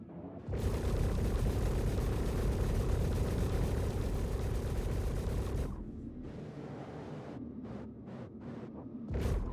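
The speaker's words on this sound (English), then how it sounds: "Love the sound of the engines." Maneuvering engines of a spaceship in the Star Citizen game give a loud, dense roar for about five seconds. It then breaks into a series of short, sharp thruster bursts with pauses between them.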